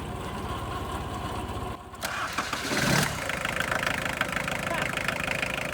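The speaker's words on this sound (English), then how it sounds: "I guess the battery wasn't dead. Rev it up a little bit. Sounds like a diesel." A junkyard car's engine cranks and fires on a cold start, then settles into a steady, rough idle with a clattering, diesel-like knock, close and loud, with a voice speaking over it.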